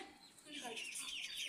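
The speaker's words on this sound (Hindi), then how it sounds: "इधर ये मुर्गी है" A chicken clucking close by in a rural yard, a short burst of bright, rising clucks that is fairly faint, with no clear talking over it.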